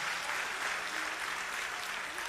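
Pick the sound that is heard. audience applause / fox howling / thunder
audience applause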